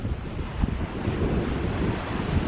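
Surf rolls steadily onto a crowded beach at Skagen, Denmark, where the North Sea and Baltic meet, a continuous broadband wash mixed with strong wind buffeting the microphone and no clear voices.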